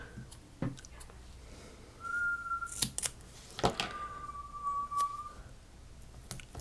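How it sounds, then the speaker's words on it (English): A bird whistles a few clear, sustained notes, each held briefly, between sharp clicks and soft tapping nearby; no talking. "Do you guys hear Crichton whistling?"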